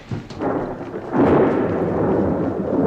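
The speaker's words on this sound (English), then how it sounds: "But they're so scared of the thunderstorm." Deep, rolling rumble of thunder that swells midway and keeps growling steadily to the end, broad and loud with no voices.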